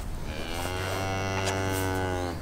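Cows moo in a field, one long, loud, low bellow held steadily close by, with no talk over it.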